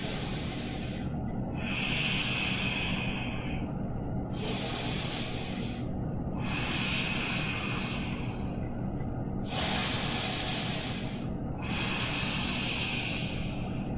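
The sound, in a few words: deep breathing during yoga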